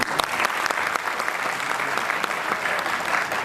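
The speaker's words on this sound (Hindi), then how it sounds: "तालियों में कुछ कमी सी लग रही है।" An audience at a university convocation ceremony applauds steadily, a dense wash of clapping hands that is moderately loud and even throughout.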